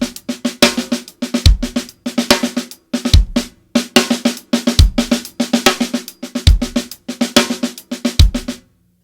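A drum sticking exercise in 16th-note triplets is played deliberately unevenly: fast bursts of sharp stick strokes in repeating groups, with low thumps at intervals, loud and close, no talking.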